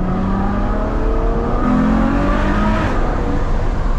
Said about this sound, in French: Comme ce V12 est présent, il est là.